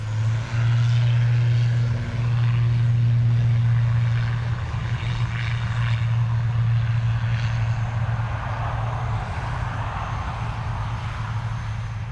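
A mail plane departs Dublin Airport bound for Southampton, its loud aircraft engine and propeller holding a steady, continuous drone from start to finish.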